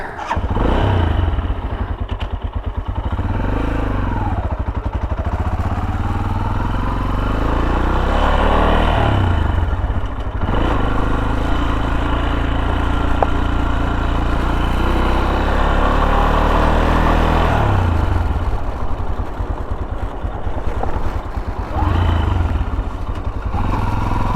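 A Tekken 250 motorcycle running through hilly fields, its loud close engine droning continuously with rising and falling revs as it rides off.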